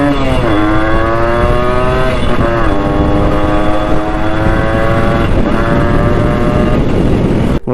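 A Yamaha RX100 two-stroke motorcycle engine runs loud and close, a steady buzzing idle with a couple of brief rises in revs and no talking.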